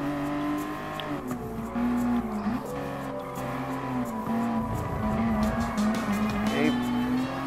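A racing supercar with an 8-speed transmission accelerates hard around Fuji Speedway in Gran Turismo Sport, its engine whine climbing steadily through the gears with brief tire squeal, loud and close, with a voice talking over it.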